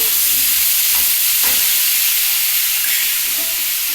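Ridge gourd strips sautéing in a pan with spices, a loud steady sizzle with occasional stirring scrapes throughout.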